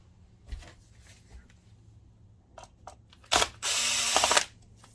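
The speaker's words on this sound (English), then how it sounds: "Let's take that 5mm fastener out." A small power driver or ratchet works a 5mm fastener out of an NEC NP-PE401H DLP projector during repair, a few faint clicks first, then a loud close whirring burst lasting about a second.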